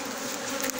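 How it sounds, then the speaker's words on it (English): A swarm of bees clustered under timber in a tree, a close, dense, continuous buzzing hum for under a second. "to catch the swarm, this swarm that is under here in this tree, under this timber"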